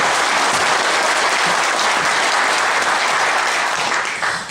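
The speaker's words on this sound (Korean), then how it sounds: "우리 저 박원기 의원님한테 다시 한번 힘차게 박수 한번 부탁드립니다" An audience at a meeting with Seoul's mayor gives a council member loud, sustained applause, many hands clapping in a dense wash that holds steady and then starts to fade at the very end.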